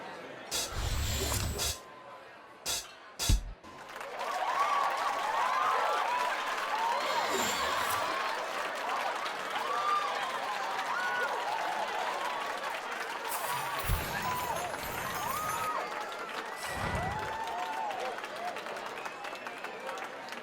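A video game crowd claps and cheers steadily at a band's performance, with whistles and excited voices rising through the noise and a few sharp thumps at the start.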